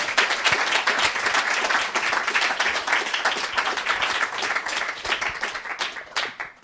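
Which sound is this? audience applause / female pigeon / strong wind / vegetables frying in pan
audience applause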